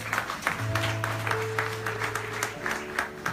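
A church congregation at an international convention in Lyon claps together in a lively, rhythmic burst of applause, with organ or keyboard chords sustaining underneath and scattered voices mixed in.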